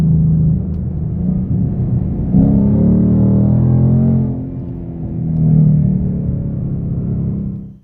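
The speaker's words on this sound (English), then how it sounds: "enjoy a little bit more of this amazing exhaust sound that coming from this Coyote 5-liter V8" A 2021 Ford Mustang GT Performance Pack with the Coyote 5-liter V8 rumbles through its exhaust, a deep loud burble that rises in revs, dips, then swells again before cutting off abruptly.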